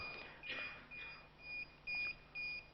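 A mobile phone in a conference keynote audience beeps and chirps in short repeated electronic tones, several bursts in quick succession, faint in a hushed hall with no talking.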